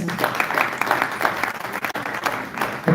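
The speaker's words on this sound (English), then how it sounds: "that is a hand clap" An audience at a community symposium claps steadily in a broad, rhythmic patter of many hands, with a brief dip near the middle before the clapping swells again at the end.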